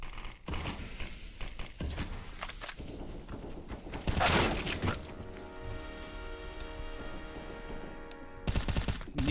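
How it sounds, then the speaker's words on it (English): A flashbang grenade goes off in Counter-Strike: a loud burst, then a sustained high ringing tone, with scattered gunfire and impacts before and after. "Throwing flashbang."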